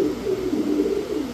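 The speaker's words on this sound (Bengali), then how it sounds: "দেখেন অনেক বড় সাইজের এক জোড়া তুলা কবুতর।" A pair of large Tula breed pigeons coo, producing a low, rolling, warbling call that is close and fairly loud, continuing steadily for just over a second with no talking.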